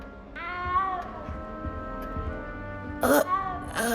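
Small cat in the video game Hogwarts Legacy meowing several times, drawn-out plaintive mews near and clear, with a sharper cry around the end over quiet game ambience.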